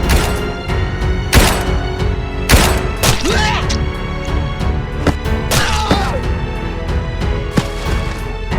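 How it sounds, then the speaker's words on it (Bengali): In an animated crime story, loud gunshots crack out in a rapid irregular series, sharp heavy bangs and thuds spread across the whole stretch with dense background clatter between them. "দীনেশ এবং বিক্রম মল্লিককে একটি নির্জন এলাকায় নিয়ে গিয়ে গুলিবিদ্ধ করা হয়।"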